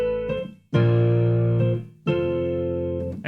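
Sustained electric keyboard chords from a blend of Reason Rack Radical Keys and Radical Piano played through a Softube bass amp, with two long held notes separated by a brief decay, loud and close with no talking.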